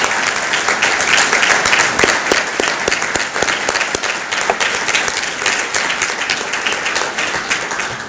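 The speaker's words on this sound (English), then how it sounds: "another round of applause for all the award recipients" Sustained, loud applause from an audience at an employee service awards ceremony honoring award recipients, with a few sharper individual claps standing out from the steady crowd clapping.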